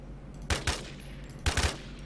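Two quick bursts of GX11 gunfire in a video game, each a tight cluster of two or three sharp shots, spaced about a second apart and fairly close.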